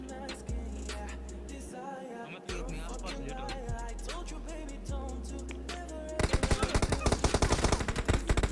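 Gunfire in the mobile battle royale game PUBG Mobile: scattered single shots and bursts, then a rapid, loud automatic volley toward the end, with a voice speaking faintly underneath.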